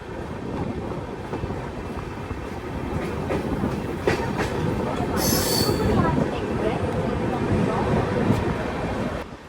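Gondwana Express passenger train pulling into Betul station, with a steady loud rumble of wheels and carriages throughout, brief wheel squeal and rattling clacks, heard from on board.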